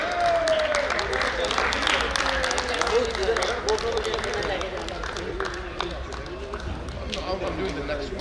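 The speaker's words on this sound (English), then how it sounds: "Can we give a big round of applause" A crowd at a team awards event applauds the runner-up team, a dense wash of clapping and cheering mixed with lively chatter and voices throughout.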